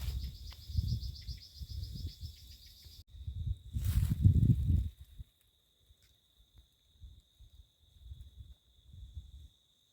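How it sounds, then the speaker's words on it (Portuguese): A cricket chirps outdoors in a quiet natural setting, a thin high pulsing trill that settles into a steady tone, broken by close, heavy rustling and handling thumps near the microphone. "o grilo, ó."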